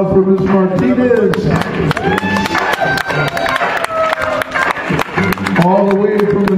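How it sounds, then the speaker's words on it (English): An audience claps and cheers for Ms. Martinez, with dense applause and whoops mixed with excited voices talking and shouting nearby, loud and continuous with sharp claps cutting through. "Big round of applause for Ms. Martinez."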